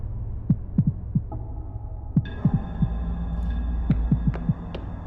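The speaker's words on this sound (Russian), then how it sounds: "Тут сердцебиение у меня сейчас как бешеное." A heartbeat effect from the indie video game Haar Kuluge thumps in low, paired beats over a steady hum, close and clear with no talk, with a few higher tones sounding later.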